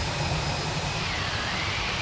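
Airbus A319 jet engines run steadily in the Fenix flight simulator, a constant loud roar with a high whine carried over a low rumble.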